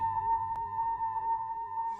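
A steady electronic tone sits on one pitch throughout, with faint ticking underneath and a single short click partway, as in a hidden Morse code message, though the separate on-off beeps are not clear.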